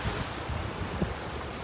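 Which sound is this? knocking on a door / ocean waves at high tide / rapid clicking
ocean waves at high tide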